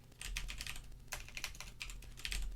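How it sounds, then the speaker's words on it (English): Rapid typing on a computer keyboard, dense bursts of sharp clicking keystrokes close to the microphone, steady and fairly quiet, with no talking. "how's my keyboard? Nice and loud?"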